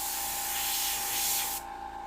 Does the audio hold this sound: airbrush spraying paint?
yes